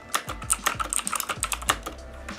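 Someone types quickly on a cheap mechanical gaming keyboard, producing a rapid burst of clicky keystrokes at close range, clear and alone.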